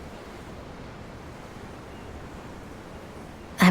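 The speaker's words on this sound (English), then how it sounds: "The ocean? Yeah. The waves." Ocean waves in Tales of Arise, heard from aboard a ship: a steady, even wash of surf and wind that holds at a moderate level, cut off by a sudden loud sound at the very end.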